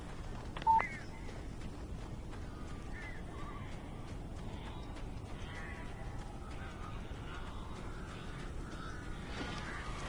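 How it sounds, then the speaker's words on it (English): Crows caw in scattered, rasping calls from a few birds in Alan Wake Remastered, fairly faint over a steady ambient hum, with a sharp electronic beep near the start. "These birds are weird."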